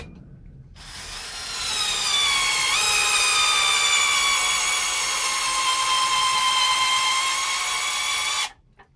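A Festool power drill drives a construction screw, a loud whining motor hum that ramps up, shifts pitch slightly as the screw bites, holds steady for several seconds and then cuts off.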